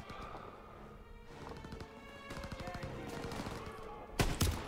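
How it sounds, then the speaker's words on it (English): Rapid bursts of covering gunfire in the World War II shooter game Call of Duty WW2, a steady rattle of shots through the battle ambience, ending in a couple of loud, close blasts. "I'm not providing covering fire for no reason."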